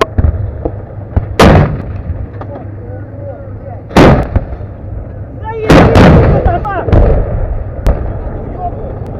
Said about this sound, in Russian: Давай, стреляй!